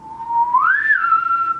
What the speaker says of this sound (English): when you want to whistle, you're going to gently release air out of your lips